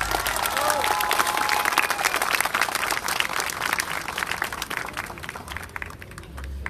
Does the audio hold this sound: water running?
no